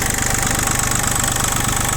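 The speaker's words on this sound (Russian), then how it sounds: "Трехцилиндровый двигатель Исеки на механическом подвижном насосе высокого давления" Iseki TU185F mini tractor with a three-cylinder diesel on a mechanical injection pump, idling close by with a steady, loud, even chugging rhythm that never changes pitch.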